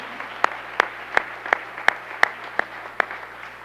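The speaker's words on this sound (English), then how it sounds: "Let's clap right on the onset." Steady, evenly timed unison claps at a school board meeting honoring an employee's 40 years of service, eight sharp beats about a third of a second apart over a quiet room.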